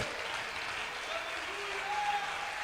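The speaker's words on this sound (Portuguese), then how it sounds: "Aplauda o Senhor, queridos." A church congregation applauds during a worship service, a soft, fairly distant wash of clapping that holds steady throughout, with faint voices beneath it.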